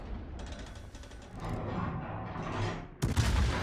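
Naval gunfire in World of Warships, with a rumbling mechanical battle din that builds and then breaks into a loud, sharp burst of shots near the end, without speech.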